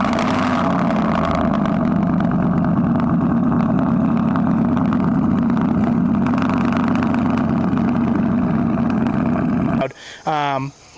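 A loud lifted truck exhaust gives a steady, deep droning rumble at close range for about ten seconds, then cuts off abruptly, leaving a brief burst of squealing noise at the end.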